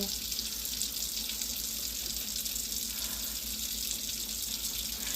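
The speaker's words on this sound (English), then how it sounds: "I'm going to be running this water for a minute because I got to clean my chicken." Kitchen faucet in an old-fashioned kitchen runs steadily into the sink to rinse chicken, a continuous close hiss of flowing water with no break for the whole stretch.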